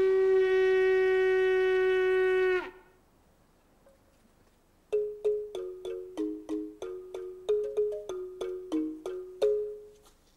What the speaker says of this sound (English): You can do the same thing with a horn.